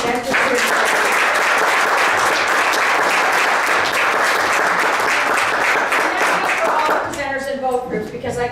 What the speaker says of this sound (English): I would like you guys to give a big round of applause to the presenters